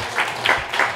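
A town hall audience applauds, with clapping swelling in three quick, even bursts over a second, moderately loud and with no voices.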